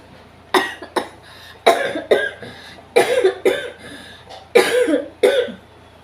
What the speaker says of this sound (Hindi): इतनी बात आपसे करने में मुझे इतनी तेज़ खांसी आ गई है